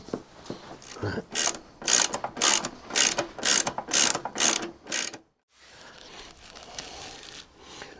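A ratchet tightens the seat nuts on a Cub motorcycle in about eight quick, loud bursts of clicking close by, followed after a brief gap by softer rustling handling noise.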